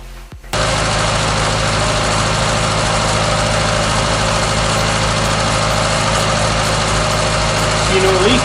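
A Suzuki Samurai engine cranks and catches within the first second, then settles into a loud, steady idle with a constant low rumble after a cooling system upgrade.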